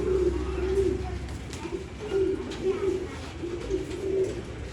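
Old line pigeons coo in repeated soft, rolling calls close by, a steady rhythm of throaty phrases with faint rustling and background noise beneath.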